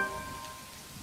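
Steady rain falling in a video game, a soft, even hiss of drops with a faint tonal hum in the background, quiet and continuous with no voices.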